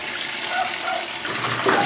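Whirlpool Direct Drive washer draining into a standpipe, with a steady broadband rush of water and low gurgling throughout, close and fairly loud, with a few brief tonal squeaks near the end.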